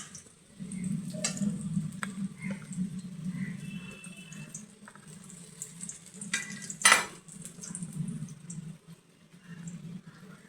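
Banana blossom and boiled potatoes cook in a pan with prawns, giving a soft low bubbling sizzle throughout, with occasional light stirring knocks and one sharper clatter partway.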